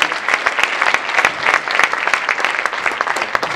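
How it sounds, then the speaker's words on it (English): Audience applause at a business luncheon, brisk, close clapping from a room of guests with sharp individual claps standing out, steady for the whole stretch. "How about a big round of applause for Mr."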